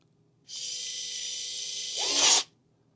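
A power screwdriver fitted with a work light drives a screw: a steady, close whirring buzz holds for about two seconds, then rises in pitch and strain as the screw seats before cutting off abruptly.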